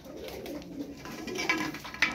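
Turkish play pigeons coo softly in short, low rolling phrases close by, with a few brighter chirps mixed in and no talking.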